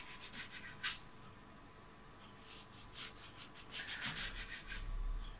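A sharp knife slices a lemon into very thin rounds on a board, a soft, steady rubbing and scraping with small irregular cuts, quiet and close, with no talk.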